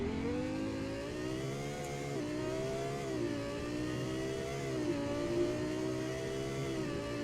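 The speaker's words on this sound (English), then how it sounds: "I can hear this engine gradually get up to the rev line" A Lexus LFA engine revs steadily upward with a smooth rising hum, brief dips as it shifts, sustained and close throughout.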